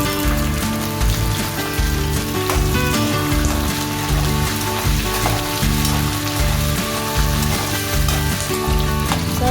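Tempering spices and cut green chilies for Andhra-style pulihora sizzle in hot oil, a dense, loud, continuous crackle under a steady background sound, with no voices.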